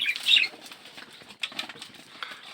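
Close bursts of frightened pigeons flapping their wings, a loud flurry at the start followed by scattered softer flutters and rustles.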